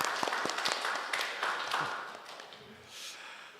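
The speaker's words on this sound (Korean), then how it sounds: "우리 박수로 환영하겠습니다." Church congregation at a Sunday worship service in San Jose clapping in welcome for returning members, a moderate, scattered patter of hands that thins out over a few seconds with faint voices beneath.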